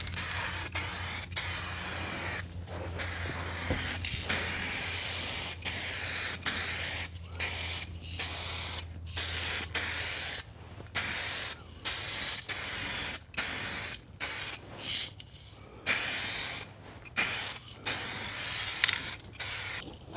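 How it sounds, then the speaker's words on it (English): A U-pol 2K aerosol can sprays clear coat onto a car panel in a run of short and longer bursts with brief pauses between them. The hiss is steady and close, with no talking. "the final spray of the clear"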